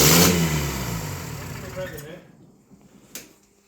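A rebuilt Bedford CA van engine revs hard at first, then winds down and fades toward near quiet, with voices talking over it.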